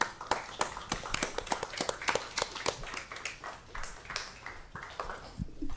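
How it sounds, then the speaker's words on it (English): School band applauded at a district governing board meeting, a modest round of scattered hand claps from a small crowd, close and uneven, fading slightly toward the end. "how about one more round of applause for the amazing Sabercat Band?"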